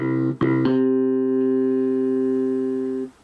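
A Casio CTK-1550 keyboard on its bass guitar voice plays a few quick plucked notes, then holds one sustained, deep, resonant bass note for about two and a half seconds before it cuts off.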